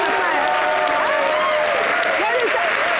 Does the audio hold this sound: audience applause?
yes